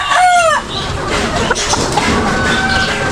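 A Boston over white jacket gamefowl rooster, about six months old, lets out a short crow right at the start, followed by farmyard background noise.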